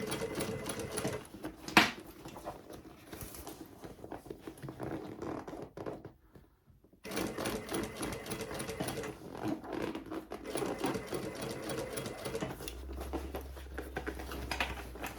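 A sewing machine stitches a handbag lining close to a folded edge, running in rapid patter bursts with a brief pause in the middle before starting up again, close and clear with no voices.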